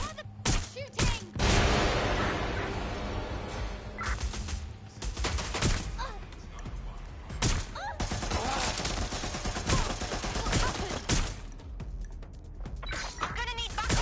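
Gunfire in Watch Dogs: Legion, with a loud burst of shots early and then scattered cracks over a constant busy game background.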